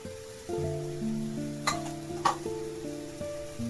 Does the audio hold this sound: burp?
no